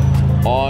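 Pininfarina Battista electric hypercar starting up, a rising electric whine that climbs steadily in pitch over a low steady hum, close by and loud, under a voice talking.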